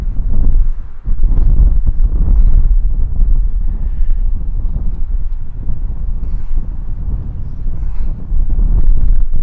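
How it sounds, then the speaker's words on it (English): Wind blowing outdoors during a resistance band chest workout, buffeting the microphone as a continuous low roar that stays loud and close throughout, with no talk. "The wind is optional. You don't need the wind like we have."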